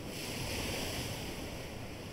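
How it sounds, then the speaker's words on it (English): Layered ocean waves breaking against rocks, a steady wash of surf and spray noise with a windy hiss, continuous and fairly loud with no break, and no voices. "We added a little wave on the rocks."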